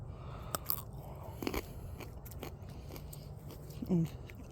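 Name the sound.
eating a tiny cucumber from the garden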